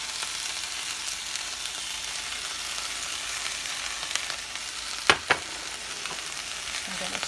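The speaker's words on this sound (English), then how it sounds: "What I'm going to do now is add my chopped onion. And my chopped garlic." Chopped onion and garlic sizzle steadily in a hot pan, a continuous soft frying hiss with a couple of sharp clinks of a utensil against the pan partway through.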